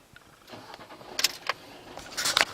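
Fiat Qubo 1.3 Multijet diesel car switching on: a series of clicks and short mechanical whirs build up, with brief sharp bursts suggesting the starter cranking, fairly quiet and close.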